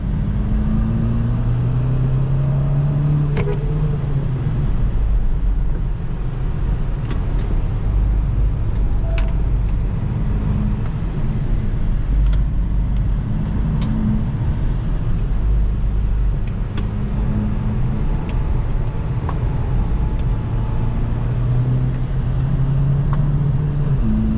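A 2023 GAC Empow 1.5GE car driving in Sport Plus mode, with a steady cabin rumble of engine and road noise holding constant throughout and no talking.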